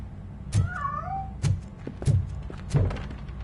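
A cat meows in RoboCop: Rogue City, one drawn-out mew in the middle, with several dull thuds landing in a loose rhythm around it.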